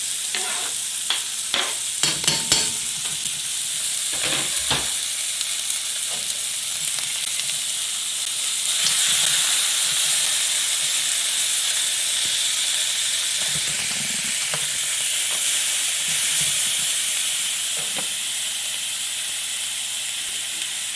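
Mushrooms, pepper and onion frying in a pan for a Russian pirozhki filling: a steady, close hiss and sizzle broken by a few clattering stirs early on.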